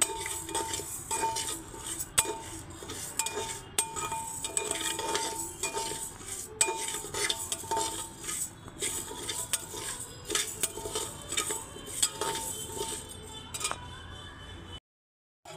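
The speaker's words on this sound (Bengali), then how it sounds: "চালটাকে অনবরত নাড়তে হবে, আর কত সুন্দর মুড়ি হয় আপনারা দেখবেন" Rice being stirred continuously in a pressure cooker to make puffed rice, a busy steady run of metal spoon scrapes and clinks against the pot, close and fairly loud, ending in a sudden cut to silence.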